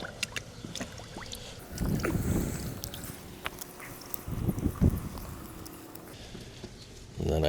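A pool vacuum hose is pulled out of pool water, producing splashing, sloshing, and dripping sounds in two main bursts over faint outdoor background, near and moderately quiet, with no talk.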